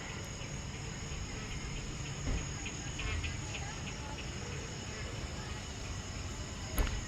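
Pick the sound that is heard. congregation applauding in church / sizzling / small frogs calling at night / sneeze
small frogs calling at night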